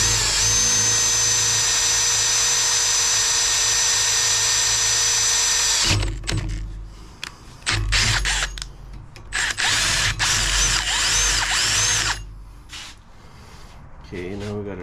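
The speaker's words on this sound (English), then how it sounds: "now we got our pilot holes drilled" A power drill runs loudly and continuously while drilling pilot holes in an axle housing, then stops and gives way to short bursts of drilling and mechanical clatter, with someone speaking at times.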